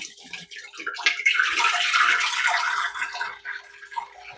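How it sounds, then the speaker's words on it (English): Liquid swirls out of a bottle in a whirlpool, pouring and gurgling into a sink for a few seconds, close and alone, then tapering to drips. "Quickest way to empty a bottle if it's got a weird lid on it."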